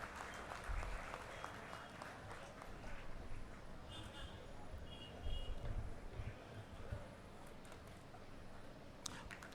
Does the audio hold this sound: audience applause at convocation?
yes